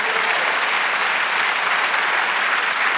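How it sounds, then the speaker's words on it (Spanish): A church congregation applauding the Lord during a sermon, loud, dense, continuous clapping filling the space throughout. "Dale aplauso al Señor."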